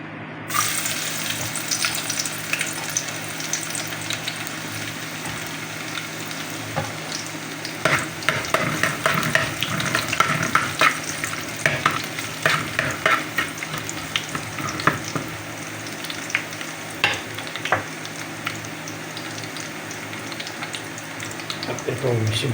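Onion, ginger, garlic, chili and flaked fish frying in a pan, a long steady sizzle with intermittent stirring clatter and scraping.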